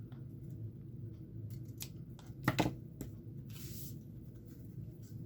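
Scissors make a single short cutting snip through paper for a craft journal, heard close and fairly quiet over a low steady background hum.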